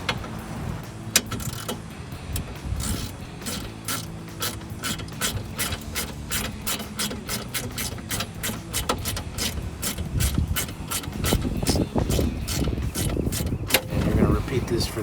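A ratchet with a 10 mm socket tightens the screws on a RedRock cold air intake in a 1999-2006 Chevrolet Silverado 1500, giving long runs of rapid, even clicking up close, with a low mechanical rumble underneath.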